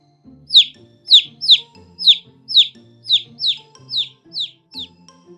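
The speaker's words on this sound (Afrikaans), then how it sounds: "Ons beste vriend is voël." Bird chirping: about ten sharp, bright chirps repeat at a fairly even, quick rhythm, close and clear, with soft low voices or sounds murmuring faintly beneath.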